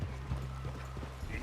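Horse hooves clip-clop in a steady rhythm in Red Dead Redemption 2, faint and close, with a brief whinny-like sound. No one speaks.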